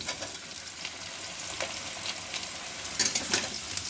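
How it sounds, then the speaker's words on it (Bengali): Potato pieces fry in hot oil with panch phoron, bay leaf and dried chilli for a fish head curry. A faint, continuous sizzle is broken by a few sharper clicks from stirring nearby. "আলুটা ভাজা ভাজা হয়ে গেছে।"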